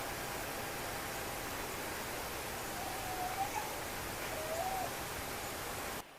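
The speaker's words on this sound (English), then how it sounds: "Hear the owl?" An owl calls outdoors at night with two faint, distant hoots that are barely above a steady background hiss.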